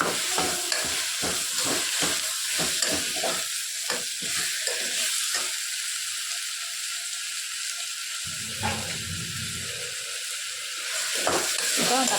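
Chopped tomatoes sauté in a hot pan with a constant sizzle and hiss. Early on, the spoon scrapes and stirs in quick, rhythmic strokes, then the frying settles to a steady, fairly loud sizzle with occasional stirring.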